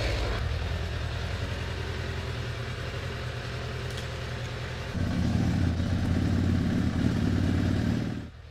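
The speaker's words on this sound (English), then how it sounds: "Time to see if the exhaust is blowing. Which is definitely quieter." A Suzuki Bandit motorcycle with its stock exhaust refitted idles close by in a steady, even rumble, then rises to a louder, fuller tone at about the midpoint before dropping off at the very end.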